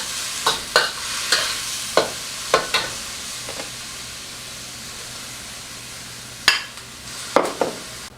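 Onions fry in a wok with a steady hiss of sizzling, broken by a series of sharp scraping stirs and taps of a utensil against the metal at irregular intervals, close and without talk.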